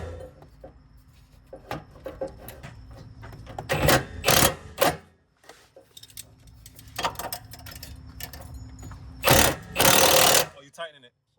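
A power tool tightens a bolt on a car in a garage, giving two loud, close bursts of whirring and hammering, with steady background ticking and people talking in between.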